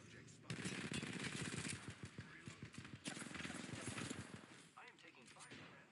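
Rapid automatic gunfire bursts crackle through an online shooter game, loud and dense in clustered volleys, with a voice talking briefly near the end.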